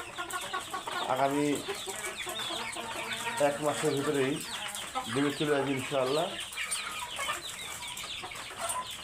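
Authentic breeder roosters and hens on a poultry farm for hill chickens, clucking and calling in repeated bursts close by, with someone talking over them throughout.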